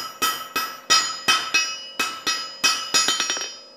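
A blacksmith hammers hot metal at a forge, with about a dozen sharp ringing strikes in a steady rhythm that quicken into lighter rapid taps at the end, loud and close, with no talking.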